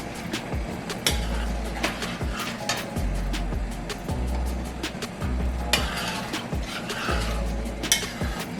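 A pot of Guyanese black-eyed peas cook-up with fresh garlic and thyme comes up to a bubble, steady simmering hiss with clinks of a spoon against the pot and periodic low thuds.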